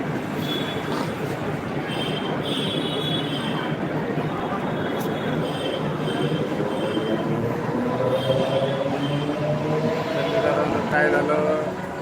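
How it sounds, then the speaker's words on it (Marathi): A train rolls past with steady rumbling and intermittent high wheel squeals, while people talk nearby throughout. "ट्रेन हो ट्रेन आली होतं बघा"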